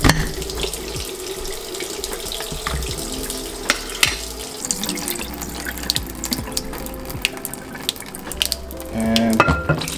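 Tap water runs steadily into a sink while jarred British hot dogs are rinsed, a continuous splashing stream with small clinks and knocks scattered through, heard close and without talk.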